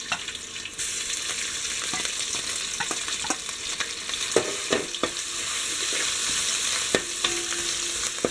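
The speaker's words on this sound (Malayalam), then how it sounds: "ഓയിൽ ചൂടായി വരുന്നുണ്ട്. അതിലേക്ക് ജിഞ്ചർ ഗാർലിക് പേസ്റ്റ് ആഡ് ചെയ്യുക." Ginger garlic paste fries in hot oil for Kerala-style beef fried rice, a loud, steady sizzle with intermittent scrapes and ticks of stirring throughout, no talking.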